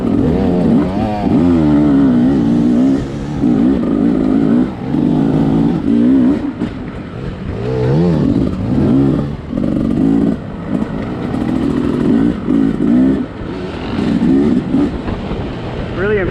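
A 2020 Beta 300RR two-stroke dirt bike engine revs hard and loud while being ridden, the pitch rising and falling in repeated bursts with brief dips between throttle blips, close and raw.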